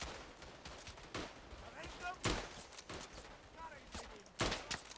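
Rifle fire in the World War I shooter Tannenberg: scattered sharp shots from several guns at irregular intervals, some near and loud, others distant, over a faint battlefield din with voices here and there.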